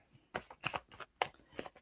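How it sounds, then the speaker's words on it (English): A deck of cards being shuffled in a few quick, soft riffling bursts, faint and close with no talk. "just want to give the cards a bit of a purposeful shuffle"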